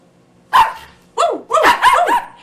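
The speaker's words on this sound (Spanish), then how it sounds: "Es un perrito." A small dog barks three or four times in quick, close bursts, sharp yappy calls with a short pause after the first, heard alone in a quiet indoor space.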